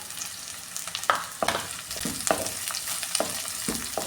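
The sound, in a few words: sardine curry ingredients frying in a pan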